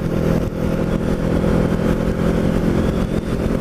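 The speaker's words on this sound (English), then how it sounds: "Try to close the face mask up a little bit to drown out some of the wind noise." Rushing wind noise buffets a motorcycle rider on the road between Cold Spring and Wildwood, a loud, steady roar that fills the whole stretch with no pauses.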